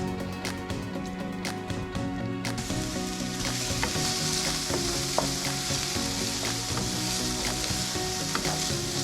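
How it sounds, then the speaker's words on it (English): Onions fry in a pan for vegetarian black bean burgers, crackling in a dense, loud, continuous sizzle. A few sharp clicks and stirring scrapes sit on top of it, and no voice is heard. "while those onions are cooking"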